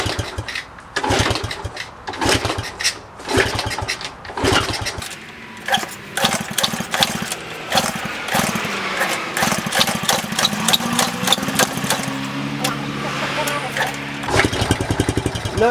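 A Honda CT70 motorcycle's small engine is kicked over with repeated loud chugging attempts, then catches and runs at an uneven, sputtering idle, close and loud throughout.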